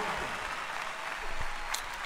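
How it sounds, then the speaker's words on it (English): Comedy show audience clapping steadily as broadband applause throughout, with a brief sharper burst near the end and faint voices mixed in. "You guys are clapping"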